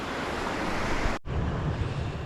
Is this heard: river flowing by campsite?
yes